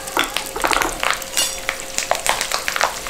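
Curry leaves sizzle and spit in hot oil in a kadai for a no-onion chutney, with bursts of crackling and popping over a steady fry, close and fairly loud.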